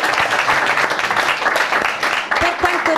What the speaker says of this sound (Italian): quindi facciamo un applauso grosso alle nostre ragazze.